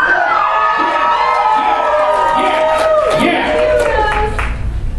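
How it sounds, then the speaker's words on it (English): Convention crowd noise for cosplayers at a Friday evening cosplay contest at ALL-CON 2011: a loud, dense crowd with scattered whoops, shouts and some clapping, steady throughout with voices mixed in. "make sure you give a big cheer for the cosplayers when they come"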